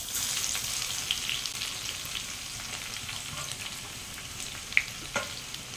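Crushed garlic and fennel seeds fry in hot oil in a pan, giving a steady, fairly quiet sizzle with a few brief pops and crackles near the end.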